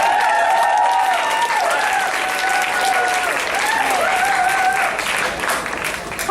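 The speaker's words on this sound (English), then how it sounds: "big round of applause for Ariana." A nerd night audience applauds a speaker in a sustained, dense wave of clapping, with whistle-like tones sliding over the steady noise. It stays loud throughout and eases slightly only at the very end.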